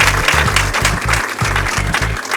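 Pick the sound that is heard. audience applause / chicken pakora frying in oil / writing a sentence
audience applause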